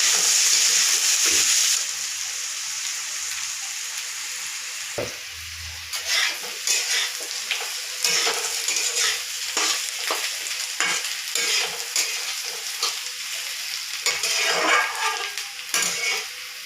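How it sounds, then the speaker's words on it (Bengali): Onions and potatoes fry in hot oil in a pan for an egg curry, with steady sizzling throughout and repeated scraping and clinking of a spoon stirring against the metal. "পেঁয়াজটা আর আলুটাকে একসাথে ফ্রাই করতে।"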